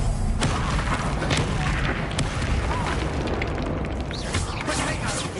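A Bombarda spell explosion in Hogwarts Legacy lands as a loud, dense boom with bursts and crackling debris, layered over busy combat noise, with a voice partly audible beneath.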